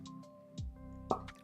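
A tight cork pulled from a bottle of Raconteur rye whiskey, giving a short, close, hollow pop midway and a second squeaky release just after, over a quiet background.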